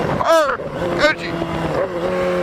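A car with a loud aftermarket exhaust revs and burbles through a downshift, its engine note rising and falling in quick swells close by, with a voice talking over it.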